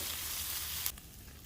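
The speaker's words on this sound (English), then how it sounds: "So we got the shrimp slow cooking over here in the corner" Shrimp and asparagus sizzle steadily on a Blackstone flat top grill, a close, hissing fry that drops off sharply near the end.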